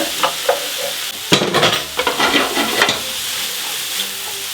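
Mushrooms sweating in butter in a pan, stirred and turned with a spatula, giving a close sizzle with a burst of scraping and stirring noises in the middle, no voices.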